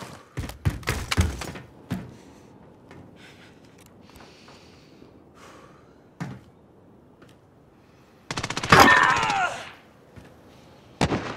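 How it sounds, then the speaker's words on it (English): Gunfire in Call of Duty: Modern Warfare during a bomb-carrier match, with a quick cluster of sharp shots at the start, scattered thuds, and a loud dense burst later on. "they're shooting me from behind"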